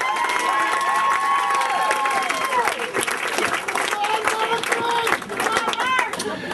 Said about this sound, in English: can we have a big, warm round of applause for Marc